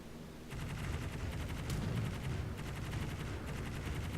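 Cruiser guns firing in World of Warships, a rapid, continuous volley of booming shots layered over a low rumble, steady and loud throughout with no voices.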